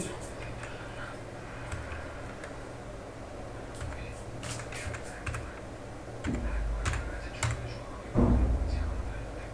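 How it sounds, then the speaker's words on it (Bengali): Keys clatter on a computer keyboard as an IP address is entered, a steady run of light taps over a low background hum, growing a bit louder and busier toward the end. "আমি আমার আইপি অ্যাড্রেসটি লিখে দিচ্ছি"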